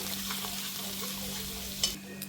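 Coriander, cumin and turmeric powders roasting in a pan, a soft steady sizzle with faint stirring scrapes and a brief clink near the end, close and quiet with a low hum underneath.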